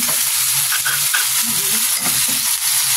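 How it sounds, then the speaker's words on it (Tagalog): Dalag mudfish sautéing in a hot pan until lightly browned, a loud continuous sizzle with occasional stirring and shifting, close up. "Lutuin lang natin ng konti hanggang sa brown ng konti ang ating isda."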